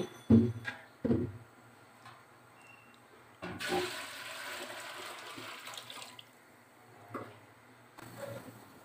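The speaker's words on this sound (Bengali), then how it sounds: "পাতিলে পানি ঢেলে দিচ্ছে" Water poured into a cooking pot on a stove while beef trotter nihari is being prepared, a steady splashing gush lasting a few seconds after short knocks of the pot, then quieter kitchen sounds.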